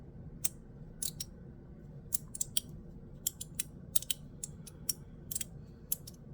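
A fidget slider toy is pushed across and clicked back, giving sharp, close, dry plastic clicks in irregular bursts against a quiet room.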